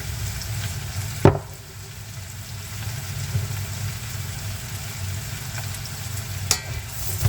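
Onions with a little salt frying in a pan, a steady low sizzle running throughout with a couple of sharp knocks, likely a utensil against the pan, near the start and toward the end.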